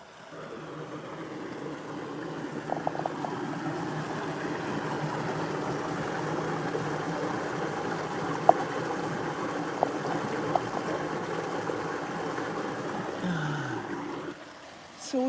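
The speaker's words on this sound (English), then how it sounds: "I just hear the water." A mountain stream in rural Japan flows in a continuous, even rush of water that holds steady throughout, with a few faint clicks and a soft shuffle near the end.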